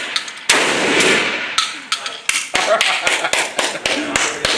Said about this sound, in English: He's just gonna shoot 4 rounds.